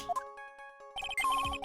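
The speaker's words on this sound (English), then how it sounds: "That's the sound of the metal detector's signal bouncing off of something metallic." Electronic beeping from a metal detector in the Phoenix Wright: Ace Attorney – Trials and Tribulations game: a few soft chimes, then a quick run of bright, close, repeated tonal beeps over a steady game music bed.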